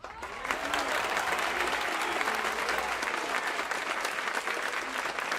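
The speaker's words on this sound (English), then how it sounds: "How about a round of applause, huh?" A steady wash of applause from a crowd, dense clapping that holds at an even level throughout.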